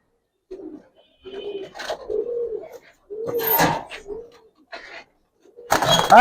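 Giribaz and coloring pigeons in a loft coo in several drawn-out, throaty bursts, close and fairly loud, separated by short silences.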